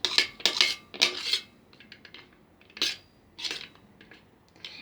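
A utensil stirring cream in a small dish for homemade lipstick, sounding as sharp metallic clinks and scrapes in several quick bursts separated by quieter pauses, close by and without speech.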